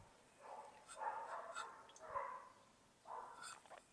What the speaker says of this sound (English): I hope you can't hear all those dogs. That's the neighbors, by the way.